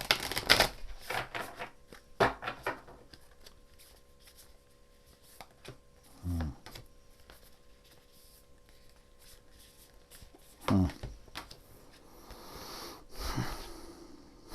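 Tarot cards are shuffled in quiet, close bursts of riffling and soft slapping, separated by gaps of near silence with faint breathing.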